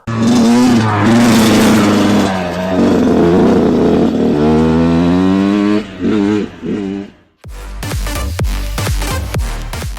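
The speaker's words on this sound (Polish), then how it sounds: "dodałeś dźwięk silnika, posłuchajcie go" A motorcycle engine revs hard and loud, holding high sustained pulls with rising and falling pitch, then after a brief pause fires off several sharp throttle blips, with no one talking.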